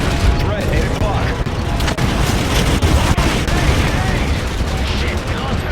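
Dense, continuous gunfire and booming blasts in the video game Call of Duty: Infinite Warfare, loud and chaotic, with voices talking underneath.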